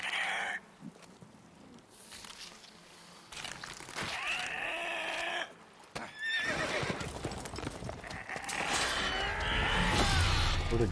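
A horse in The Witcher 3: Wild Hunt neighs and whinnies loudly over clopping hooves, with groaning cries and game scene sounds around it, close and busy.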